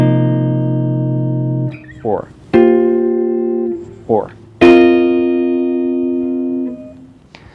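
Quartal hybrid chords on an electronic keyboard ring out in three sustained, loud voicings, separated by short gliding pitch bends, with a brief spoken word in between.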